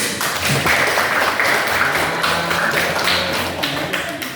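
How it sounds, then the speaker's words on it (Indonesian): Classroom applause for a teacher's lesson on the dangers of smoking: a steady, dense patter of clapping hands runs the whole length, fairly loud and close, with faint murmuring beneath. "Tepuk tangan."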